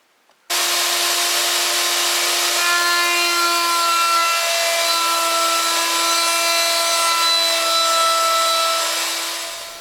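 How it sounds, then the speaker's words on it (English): Heavy Hitachi router mounted under a table, its bit cutting away a wooden block: a loud, steady high-pitched whine starts abruptly and holds for about nine seconds, then fades slightly at the end. "I'm moving it over the router bit to cut away the wood in the area of the 2 registration marks"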